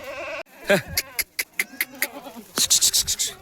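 Goats bleat close by at a livestock sale, a wavering bleat opening, then a rapid run of short loud calls and overlapping cries from several animals.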